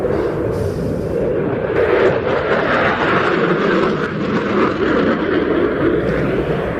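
A display jet pulling a sustained max rate turn at the Ayr air show, its engine roaring loud and steady throughout with a broad, constant rush overhead.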